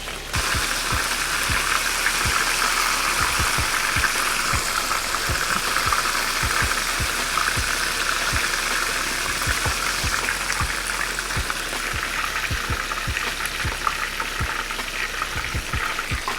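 Shrimp deep-fry in hot oil in a skillet, with a steady, dense sizzle and crackle and frequent small popping bursts throughout.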